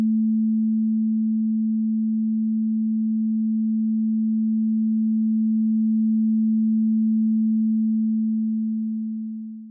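Two sine wave tones at the same pitch added in phase into one louder, pure, steady low hum, unbroken for nearly ten seconds before a quick fade at the end.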